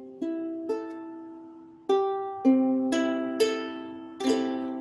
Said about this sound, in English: a fully tuned ukulele will sound like this.